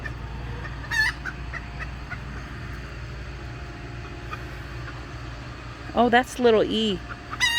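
Backyard hens clucking and squawking close by while one lays an egg, sharp agitated bursts over a low steady background rumble, with a person talking briefly.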